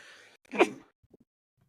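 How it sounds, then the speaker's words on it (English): A single sharp sneeze, close and moderately loud, followed by a couple of faint small sounds in otherwise quiet surroundings. "Hold on, I'm gonna sneeze and then I'll tell you."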